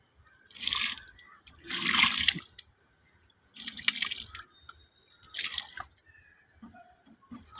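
Water sprinkled by hand onto a freshly planted manjal karisilankanni cutting, coming in four or five short splashy bursts separated by quiet gaps, close by with no talking.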